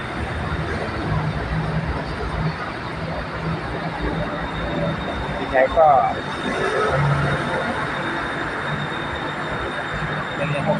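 A train sits at a platform with a loud, steady roar of motors and ventilation, and voices faintly audible beneath the noise.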